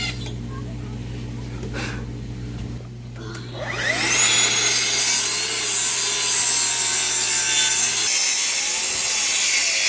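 A Festool track saw on a non-slip track rips through pool deck wood, the motor spinning up sharply after a few seconds of quieter shuffling and then holding a loud, steady high whine through the cut.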